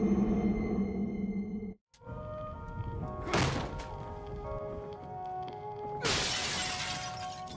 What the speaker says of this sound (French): Le bois il brise pas comme ça normalement.